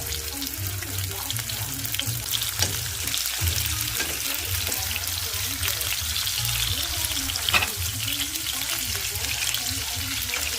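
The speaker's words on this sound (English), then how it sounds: "I'm just going to be removing them from the oil, placing them on a napkin to drain, and then I'm going to add more." Chicken pieces for chop suey frying in hot oil: a continuous dense crackling sizzle with scattered pops and soft clinks of pieces being moved, close and steady, with no talking.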